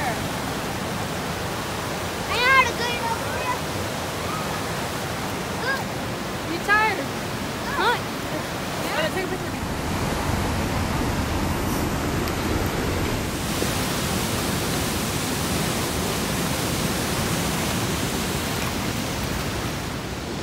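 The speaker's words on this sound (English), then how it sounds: "Okay, we got to the waterfall." A waterfall in the North Carolina mountains rushes with a steady, broadband roar, close and constant, with a few brief voices in the first seconds.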